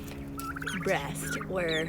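Farm turkeys making soft clucks and warbling calls close by, mixed with a person talking over them.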